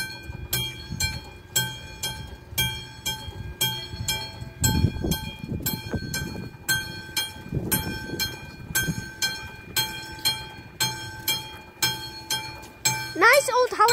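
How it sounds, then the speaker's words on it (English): A level crossing bell rings in a steady repeating pattern as a passenger train rumbles past, ending with a rising horn-like tone. "Oh, here it goes. Whoa, it's a different passenger train"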